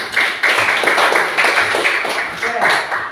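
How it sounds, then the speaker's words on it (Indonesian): A classroom group claps hands in a brisk, dense patter of overlapping claps, close and fairly loud, lasting a few seconds with a teacher's voice faintly mixed in. "tepuk tangan dulu."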